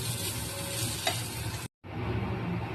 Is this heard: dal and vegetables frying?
yes